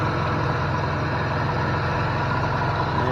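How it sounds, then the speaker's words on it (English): Running AC compressor on a 2000-2005 Chevy Venture, heard as a steady droning engine-bay hum with a low rhythmic pulse, close and continuous, no talking. "Another thing you want to check for is your compressor running"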